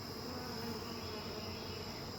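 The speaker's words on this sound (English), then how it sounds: "And still a few bees hanging out in their box." Honeybees buzz steadily around a box during hive installation, a continuous, fairly faint droning hum with no voices.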